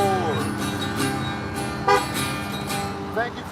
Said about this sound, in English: Thank you for the honk.